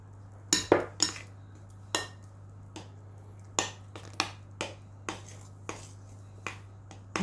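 Cake batter being mixed in a bowl, with irregular sharp clinks and taps of a utensil against the bowl at close range, no talking.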